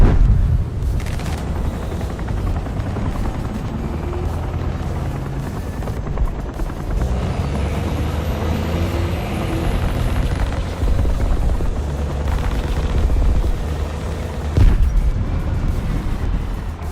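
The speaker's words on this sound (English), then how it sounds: "Does not sound like a friendly helicopter." A helicopter's rotor thumps loudly and continuously in War Thunder, with bursts of gunfire and booms mixed in, like intense game combat. No one speaks.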